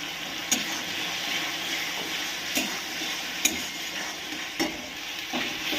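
A spice masala with turmeric powder and salt sizzles quietly in a pan while being stirred, with a few sharp spoon knocks against the pan over the steady frying hiss.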